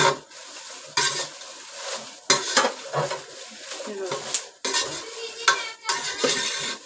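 A spoon scrapes and stirs roasted red chillies in a pan for Malvani masala, coming in several distinct bursts of scraping and clatter separated by short pauses, close and fairly quiet.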